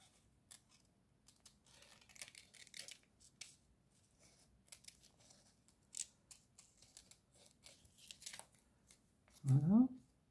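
Scissors snipping paper for a scrapbooking layout, a run of quiet, irregular short cuts and rustles close by, ending in a brief louder crinkle, with a soft voice occasionally present.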